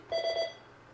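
A single short ring of an incoming call on a live radio phone-in line, a bright electronic tone with stacked harmonics lasting under half a second, fairly clear over a quiet background.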